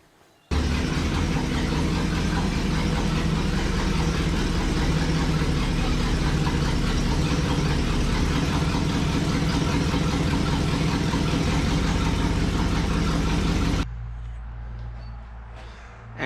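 A 1955 Ford pickup truck engine runs loud and close with a steady low rumble for about thirteen seconds, then cuts to a quieter background hum.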